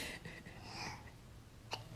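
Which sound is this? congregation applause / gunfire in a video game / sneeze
sneeze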